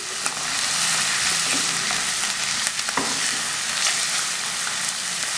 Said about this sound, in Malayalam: നന്നായിട്ടൊന്ന് വറുത്തെടുക്കണം